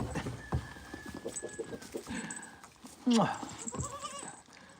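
Goats bleat a few times close by, mixed with people talking and some scuffling movement.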